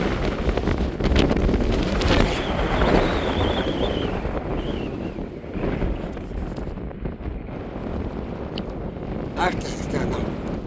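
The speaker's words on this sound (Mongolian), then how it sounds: "Амар салхитай юм бэ." Strong wind buffets the microphone at a salt lake with flamingos on the route from Bolivia into Chile, a loud continuous rushing roar with gusts that lasts throughout.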